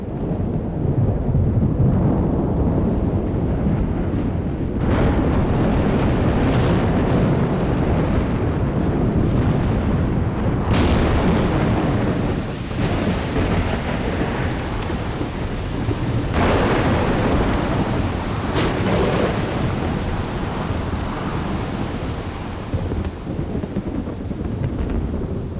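Evening thunderstorm over the Serengeti plains: heavy rain hisses continuously while several loud thunder rumbles and cracks roll through, with no voices.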